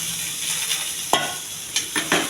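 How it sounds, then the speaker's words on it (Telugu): Millet rice stir-frying in a pan with onion, cumin, curry leaves and mustard seeds, a constant close sizzle broken by a few quick scraping stirs toward the end. "కొంచెం ఉల్లిపాయ, జీలకర్ర, కరివేపాకు, కొన్ని ఆవాలు వేసి వేగించుకున్నాను"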